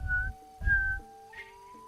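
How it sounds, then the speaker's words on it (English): A person whistles a few clear, steady tones in a short tuneful phrase, close and alone with brief pauses between notes. "Beautifully in tune whistling there."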